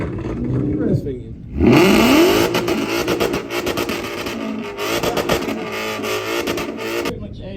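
A supercharged Mustang GT-spec race car with a 3-inch straight-through race exhaust revs hard and loud at a live car show, its roaring engine note sustained from just after a brief opening voice to the end.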